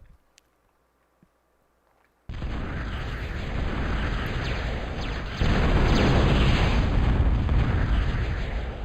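Missiles launching from Merles units in a real-time strategy match, a sustained roaring, rumbling barrage that starts abruptly after near silence and swells louder partway through, with no talk.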